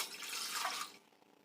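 Water poured from a vessel into a kadai on the stove for making sugar syrup, a brief splashing pour lasting about a second before trailing off to quiet.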